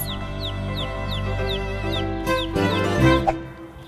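Chicks on a chicken farm cheep continuously in a dense, high-pitched chorus of repeated downward peeps, with some louder clucks and shuffling toward the end and no speech.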